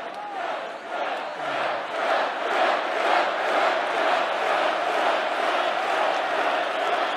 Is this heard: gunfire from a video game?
no